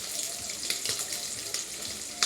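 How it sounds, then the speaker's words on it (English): Water poured into a hot frying pan of sausage and potatoes hisses and sizzles in a steady, bright spatter that holds throughout, with a few louder pops. "I'm just going to add a little water to this because now what I wanted to do is kind of steam."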